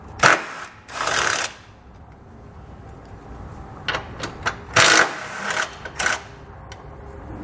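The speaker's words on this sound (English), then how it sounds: "So we'll pull those out using an 18 millimeter socket." Tow hook bolts being loosened and pulled from a 2020 Nissan Rogue with an 18 mm socket: bursts of broadband ratcheting and rattling, two strong ones early and a cluster later with short clicks between, up close.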